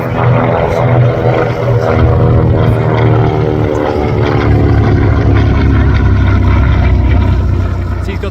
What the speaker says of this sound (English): The Avenger first flew in August 1941. Well, there's the first flyby.